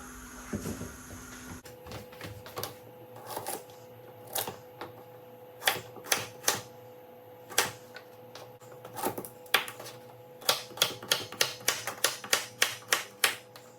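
Carrots and potatoes cut on a chopping board, a quiet irregular series of sharp knife taps and knocks that speed into quicker bursts toward the end, no talk.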